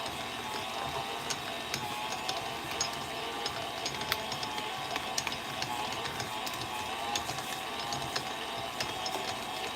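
A stand mixer kneads bun dough, producing a continuous mechanical whir with a fast, steady ratcheting tick from its gears, close and even throughout with no talking.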